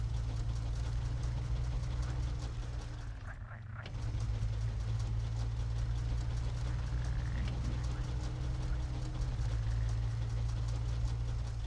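A Chevy truck's damaged engine in the SnowRunner video game runs in a steady, low, droning rumble for the whole stretch, with one brief dip in loudness partway through.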